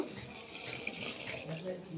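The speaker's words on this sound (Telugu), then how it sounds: "నీళ్ళు నీళ్ళైతే పోసుకుందాం మరి మనము" Water is poured into a cooking pot for a curry, a brief continuous splashing trickle, close and fairly soft.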